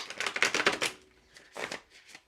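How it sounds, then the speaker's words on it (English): Tarot cards being shuffled by hand in quick bursts of rapid riffling clicks, a dense run followed by a pause and a second shorter burst, close and clear with no talk. "Let's do a shuffle."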